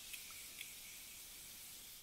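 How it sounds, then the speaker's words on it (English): A steady, continuous Morphe makeup setting spray hisses close by, broad and airy, holding level for the whole stretch with a couple of tiny clicks near the start. "We're going to spray some continuous setting spray from Morphe."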